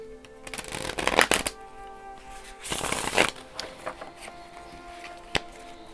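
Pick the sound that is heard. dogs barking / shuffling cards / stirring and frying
shuffling cards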